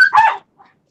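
A dog barks once, loud and close, during a July 4th fireworks display, followed by a faint short yip.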